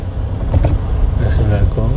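A manual car accelerates into fourth gear during a driving lesson, its engine drone steady and low beneath an instructor's voice, with a faint rise in pitch as the revs climb.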